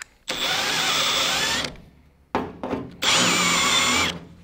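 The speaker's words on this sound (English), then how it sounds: "6-flute countersink." A drill turns a 6-flute countersink bit into metal with cutting fluid for firewall roll bar brackets on a 60-66 GMC/C10, two loud sustained whining cuts at low speed with a short stuttering pause between, close by.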